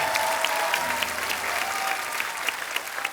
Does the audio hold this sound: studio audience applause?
yes